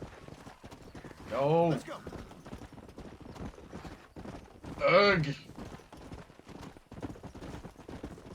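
Horse hooves clip-clop on dry ground in Red Dead Redemption, a steady rhythm of hoofbeats under scattered speech, with two loud whinnies rising clearly above the trotting.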